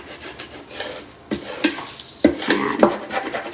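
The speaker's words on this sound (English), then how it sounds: "we're gonna take like a scraper and then just carefully just go over here" A scraper is rubbed over transfer tape laid on glass, producing several short scratchy rasping strokes in uneven bursts, close and fairly loud, without talk.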